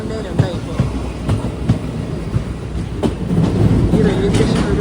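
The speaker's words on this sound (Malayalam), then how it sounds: "ട്രെയിൻ ഇത് കുറ്റിപ്പുറം റെയിൽവേ സ്റ്റേഷനിലേക്ക് എത്തുകയാണ്" A passenger train pulls into Kuttippuram railway station, its steady rolling rumble broken by rhythmic clickety-clack wheel beats, growing slightly louder toward the end.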